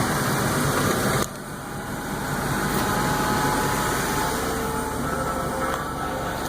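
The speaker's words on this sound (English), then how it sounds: "Let's go start up the Tahoe." A Chevrolet Tahoe engine starting in freezing cold, around -6 to -12 °F, its cranking cutting out abruptly and giving way to a steady, loud, rough idle.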